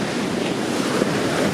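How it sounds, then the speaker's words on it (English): Large ocean waves crash on the beach at Cabo, a loud, continuous roar of surf mixed with wind noise on the microphone, with no talking. "that's those giant waves"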